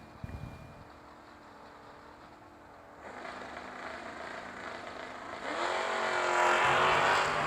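Wheel-standing S10 drag racing car at the New Year Nationals drag strip, engine building from a steady drone into a loud rising roar over the last couple of seconds, with a sharp burst near the start.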